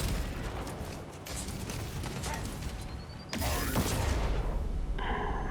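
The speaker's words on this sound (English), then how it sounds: "He threw a grenade" A grenade detonates in the Space Marine 2 video game, a sudden loud broadband blast that lifts the whole mix partway through, over a steady bed of game noise and mechanical clatter.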